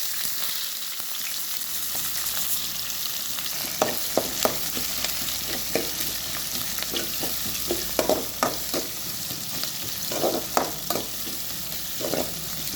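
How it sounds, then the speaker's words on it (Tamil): Onions fry in hot oil with mustard seeds and curry leaves for semiya upma, a constant close sizzle broken by intermittent scraping and stirring clicks, with no voices. "வெங்காயம் வதங்கிட்டு"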